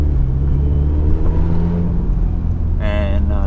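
A car pulling away from a FedEx ground distribution depot, a steady low engine rumble and road drone heard from inside the vehicle, with a brief higher tone near the end.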